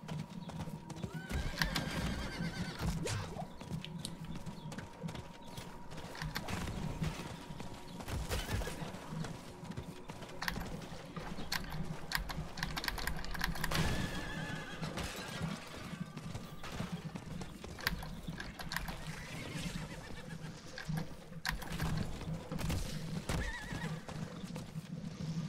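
Horse hooves clip-clopping steadily with repeated whinnies and neighs in a fantasy role-playing video game, continuous and fairly close under a dense layer of game music and ambience throughout.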